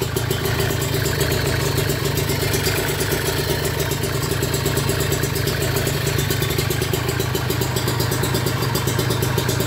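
Kawasaki Ninja RR two-stroke motorcycle idling with an open-filter carburetor, a steady close-up putter with constant clattery intake and exhaust pulses running unbroken the whole time, no talking.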